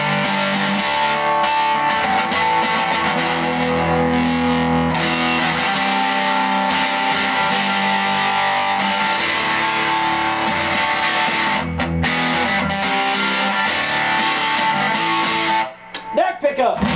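An electric guitar plays through a vintage Rickenbacker TR14 amp with a little gain, giving a dense, lightly driven chordal sound that rings continuously at close range before stopping abruptly near the end.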